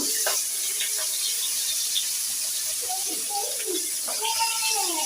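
Salted, turmeric-coated pangas fish sizzles in hot oil with a steady bright hiss and scattered pops, close and constant, while a voice speaks faintly in the background.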